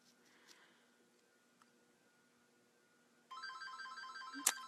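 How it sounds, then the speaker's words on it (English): A phone starts ringing partway through: a quiet room, then a bright, warbling electronic ringtone that begins abruptly and continues steadily, fairly close, with a brief click near the end. "And that's my phone ringing."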